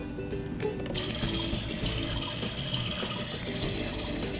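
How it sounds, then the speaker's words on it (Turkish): A toy washing machine starts its wash cycle, a steady mechanical whirring with a high electronic tone and clicking, continuous and close for the whole stretch. "Çamaşır makinesini çalıştıracağız şimdi bak."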